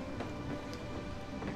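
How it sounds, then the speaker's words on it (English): Water cascading down after an explosion and falling dirt in the theme-park game Planet Coaster, a steady dense rushing wash that stays loud and even throughout, alone with no talk. "and the water is now cascading"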